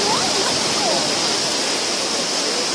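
Tagbibinta Falls in Maragusan, Davao de Oro roars with a steady, dense rush of falling water that fills the whole scene at close range.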